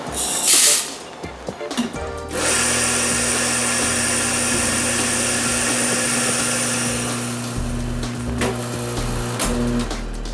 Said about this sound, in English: So we're going to go ahead and grind this up.